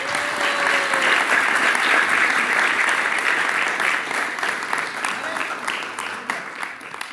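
An audience claps for the director at a church drama production, sustained broadband clapping that is loud at first and slowly thins out over several seconds, with faint voices mixed underneath.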